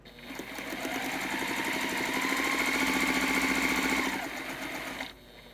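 A sewing machine stitches quilt squares together in one steady, continuous run of fast, even mechanical clatter, close and fairly loud, stopping cleanly near the end.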